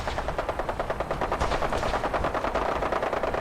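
Dense, continuous gunfire from a battle in Fallout 4, machine-gun bursts rattling rapidly and overlapping with other shots, loud and sustained throughout with no talk.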